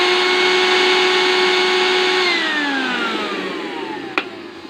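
A repaired kitchen blender with a fixed safety switch runs loud and steady on its own, its motor pitch dropping as it winds down near the end, with one sharp click just before it stops.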